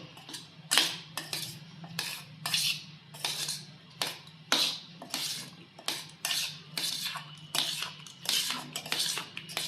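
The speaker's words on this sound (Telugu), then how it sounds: "ఇప్పుడు ఇవి బాగా కలుపుకుందాం" A spoon mixes food with chilli powder in a bowl, sounding as a rhythmic series of close scraping clinks that repeat steadily over a low background hum.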